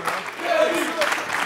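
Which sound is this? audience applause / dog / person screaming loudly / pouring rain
audience applause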